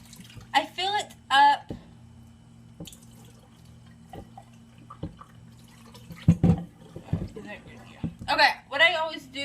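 Tap water runs into a container being filled for cleaning a fish tank, a steady stream under intermittent talk, with occasional clunks and drips.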